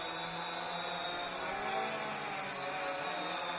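An ACME Zoopa Evo Q550 quadcopter drone hovers close by in GPS mode, a loud continuous high-pitched whir of its rotors with slight pitch wavering as it searches for its position.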